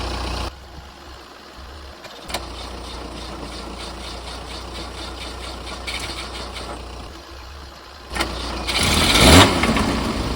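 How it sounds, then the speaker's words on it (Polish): Polonez Atu car engine with a newly replaced fuel pump cranking and firing up, a steady mechanical churn running through the clip before a louder rise in the final seconds as the engine catches, no voices. "Sprawdźmy, czy auto odpali."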